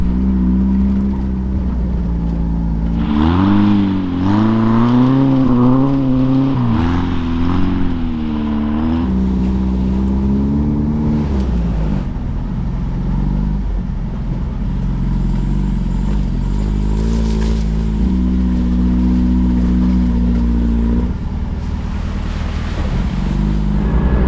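A 1960 VW Bug drives over sand, its air-cooled engine droning loud and close with a wavering pitch as it works, under steady wind rush across the microphone.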